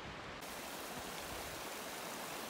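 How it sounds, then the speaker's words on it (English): Small outlet stream near the Great Divide flowing steadily, a continuous broadband rush of water, close and even, with no voices. "Pretty nice little outlet stream"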